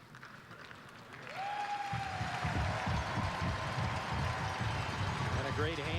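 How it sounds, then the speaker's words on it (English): Applause from a capacity crowd at a Toledo Walleye hockey arena on veterans and military appreciation night, loud sustained clapping and cheering that swells after a quiet start, with an announcer talking over it. "a great hand from this capacity crowd tonight"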